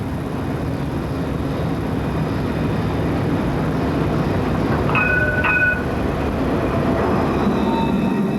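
Citadis tram running through Lyon, a steady low rolling rumble throughout with a brief high squeal of wheels or brakes around the middle.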